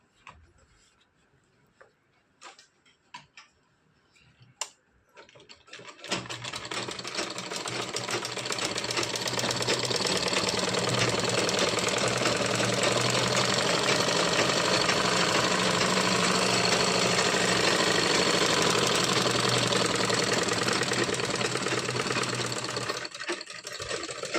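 A sewing machine runs steadily at close range for tailoring work, a dense continuous whirring hum that starts after a few scattered clicks and knocks and continues to the end, with no talking over it.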